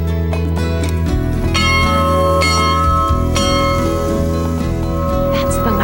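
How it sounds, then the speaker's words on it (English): A lunch bell rings at Camp Eden, a health retreat in an Australian rainforest valley. It gives loud, ringing strikes every second or so over a dense background, with voices faintly underneath. "That's the lunch bell."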